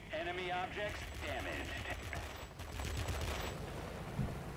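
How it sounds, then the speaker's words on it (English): Rapid 20mm cannon fire from an XF5U Pancake fighter in World of Warplanes, dense stuttering bursts under a droning engine tone, fairly faint and mixed with other noise. "The guns on this are a set of 20mm cannons that have a very high rate of fire"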